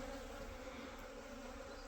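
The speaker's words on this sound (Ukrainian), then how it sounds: "Бджоли он гудуть уже." Bees hum on a farm on a warm spring morning, a soft, continuous buzzing drone with no breaks or voices.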